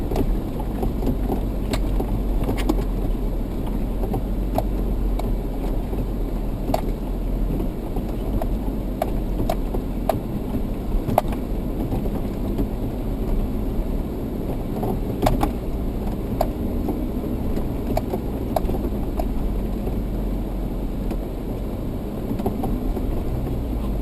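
A high-clearance Jeep 4-wheel drive crawls over rocks on a mountain trail, a steady low engine rumble with scattered knocks and bumps throughout, continuous and fairly loud with no talk.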